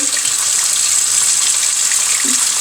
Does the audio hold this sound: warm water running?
yes